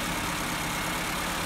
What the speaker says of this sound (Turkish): Fakat rölantimiz çok yüksek.